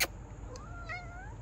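A house cat gives a short, fairly quiet meow with a rising, wavering pitch, heard alone over low room noise after a brief sharp sound at the start.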